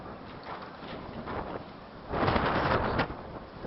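Thunder during an electrical hailstorm in Naucalpan, low rumbling that swells into a louder roll midway through, heard over a steady wash of storm noise.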